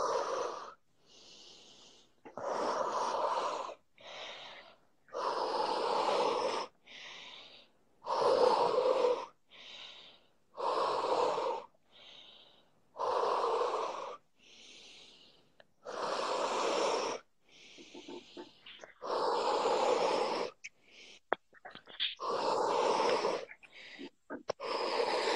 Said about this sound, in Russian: Давай, давай, дыши.